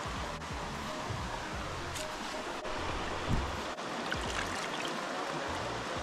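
Running water splashes steadily as hands are washed in fairly clear outdoor water, a continuous close wash of flowing, trickling sound with small splashes and no talking.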